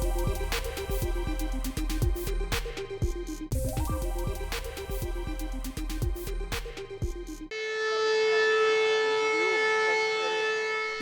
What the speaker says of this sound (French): Il était 18h30 vendredi quand la sirène a retenti sur le tarmac de l'aéroport d'Épinal-Mirecourt